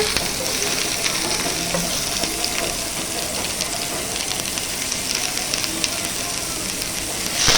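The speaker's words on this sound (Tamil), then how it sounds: "சீரகம் பொரிஞ்ச உடனே வெங்காயம் போடுங்க" Onions dropped into hot oil with crackling mustard seeds and cumin, giving a steady close sizzle and spatter with occasional stirring scrapes throughout, no talking.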